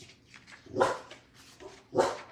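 A pet dog barks twice indoors, two loud, sharp barks spaced about a second apart over faint room noise, with softer yips or whimpers between them.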